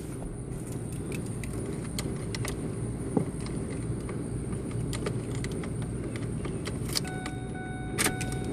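A car engine is cranked over steadily and at length, giving a continuous droning turn-over close by with faint clicks and no talking.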